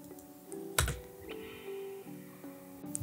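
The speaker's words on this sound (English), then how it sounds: "what we're going to do is hit S on our keyboard" Typing on a computer keyboard at a desk, a handful of crisp, irregular key clicks with one louder keystroke, close and alone over a faint steady background hum.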